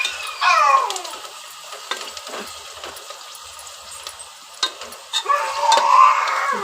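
Onions and masala frying in oil while being stirred, a close hiss of sizzling with scattered clinks and scrapes of a spoon against the pan, louder bursts at the start and end, no voices.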